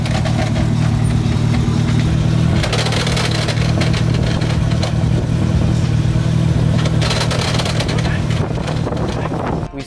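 Time attack race car under heavy throttle with its transmission failing, a loud, continuous engine drone with wind buffeting on the microphone and harsh mechanical rasping over it.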